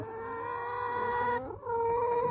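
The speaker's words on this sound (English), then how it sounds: "there's some chickens for the garden, they are on eggs" Brooding hens in a garden, sitting on eggs, give a steady, continuous run of clucking and low purring calls, close and moderately loud, with no talk.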